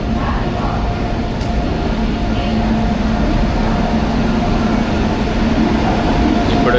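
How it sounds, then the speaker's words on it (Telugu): A train pulls into a station, its heavy low rumble and rolling wheel noise loud and continuous, with a faint steady whine running beneath the whole passage. "ఇప్పుడు వచ్చింది ట్రైన్ అయితే."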